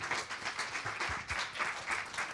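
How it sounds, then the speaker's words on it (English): Audience applause at the close of a talk on careers and the future of work, a steady wash of many hands clapping close by, holding evenly for a couple of seconds with little talk over it. "Let's give another round of applause to Dr. Farouk Day."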